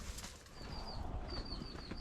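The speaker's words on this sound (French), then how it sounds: "Ouais, les oiseaux." Birds fly past outdoors on a mountain with wings flapping softly, joined by faint high calls, all distant and quiet over a low rumble of wind.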